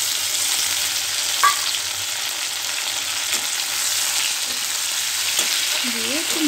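Spices going into potatoes and pointed gourd frying in a pan, a steady close sizzle with a few scrapes of stirring; no one talks.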